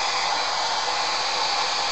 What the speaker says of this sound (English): I put my hairdryer in the center